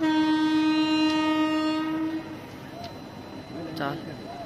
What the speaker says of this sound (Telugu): సేమ్ ట్రాక్ మీద 2 ట్రైన్స్ వస్తున్నాయి